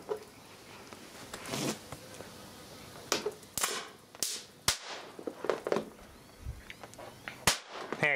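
Circuit board traces blow apart under a capacitor bank discharge, a series of sharp, irregular pops and cracks, some loud and crisp, others softer, scattered over a quiet background.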